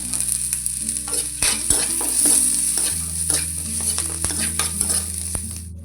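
Onions frying to golden brown in a pan: a continuous close sizzle broken by regular scraping stirs of a utensil against the pan, with no voices.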